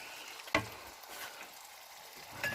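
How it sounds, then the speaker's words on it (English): Soy sauce is stirred into food frying in a pan, with a quiet sizzle, one sharp clink of the utensil early on and a softer tap near the end. "And then some soy sauce. Stir that in there."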